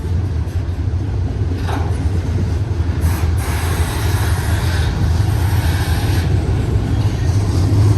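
A BNSF freight train hauling intermodal double-stack container cars rolls past in Cajon Pass, a loud, steady rumble of wheels and wagons with occasional rattles and clanks.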